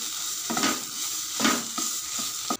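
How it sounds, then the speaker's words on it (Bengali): A spatula scrapes and turns thick bottle gourd peel paste in a pan as the last of its water cooks off, a soft continuous sizzle cut by several louder scraping strokes. "নেড়ে চেড়ে নিচ্ছি"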